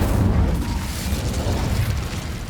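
A fire spell cast in the Hogwarts Legacy video game: a dense, rumbling whoosh of flame with a heavy low-end roar that sustains steadily throughout, with no voices.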